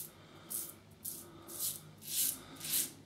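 A Carbon CX-316L safety razor fitted with a Kai blade scrapes across stubble in short repeated strokes, close and fairly quiet, about five rasping passes in a row.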